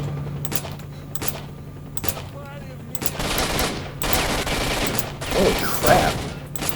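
Gunfire in the video game Stalker: Shadow of Chernobyl, aimed at an enemy's neck and upper chest, comes as sharp bursts and a sustained volley that grows louder toward the end, with a man's brief exclamation over it.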